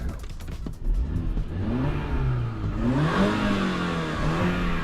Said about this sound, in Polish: Znaczy grzecznie chodzi silnik, a raczej cicho pracuje wydeszek. Słychać ewidentnie, że jest to czterocylindrowa benzynka.